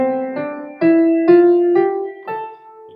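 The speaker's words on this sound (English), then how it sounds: "is the natural minor scale if we just use those notes." An instrument plays an A natural minor scale, seven clear notes rising step by step with separate attacks at a moderate pace, close and alone with no talk.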